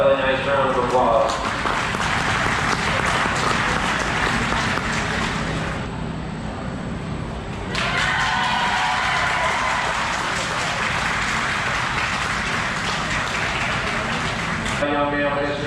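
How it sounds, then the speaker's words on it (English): Audience at a county fair livestock show applauds junior exhibitors, sustained crowd clapping that dips briefly midway and resumes, with an announcer talking over parts of it. "let's give these junior exhibitors a really nice round of applause"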